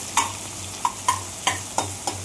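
Sliced onions fry in oil for biryani, a steady sizzle broken by six or so sharp scraping stirs at a roughly regular pace.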